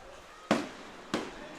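Two sharp fireworks bangs burst over a baseball game, about half a second apart, each trailing off quickly against a low crowd-and-field hum.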